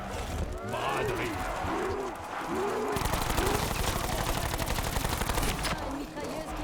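Machine gun fire rattles through a round of Black Ops 4 Zombies: rapid, dense bursts fill the second half after a voice talks over quieter game sounds at the start.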